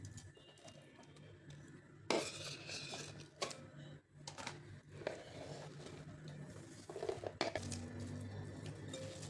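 Chopped onion tipped from a board into a mixing bowl for crispy onion bhaji, with scraping, clattering kitchen handling bursts and soft patter over steady background noise; birds coo faintly nearby.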